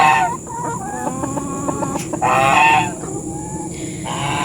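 Free-range chickens cluck loudly and close by in a series of short, rhythmic calls and longer squawks, with farmyard background and no speech.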